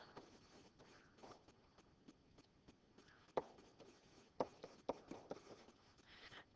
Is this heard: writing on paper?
yes